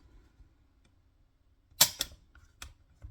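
A handgun's trigger snaps during a dry-fire gauge pull on an unmodified factory CZ Shadow 2 pistol, giving a sharp metallic click followed by a couple of smaller clicks, close and alone in a quiet room.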